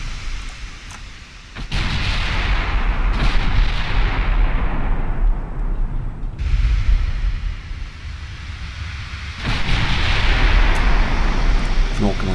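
Naval artillery salvos from King George V battleship turrets in Ultimate Admiral Dreadnoughts, heavy booming gunfire in separate blasts over a continuous rumbling roar, with a voice talking over it.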